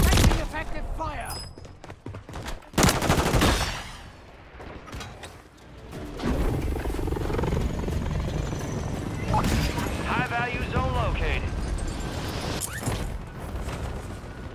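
Call of Duty gunfire: bursts of shots and heavy booms in a busy battle soundscape, with voices and radio chatter over the fighting throughout.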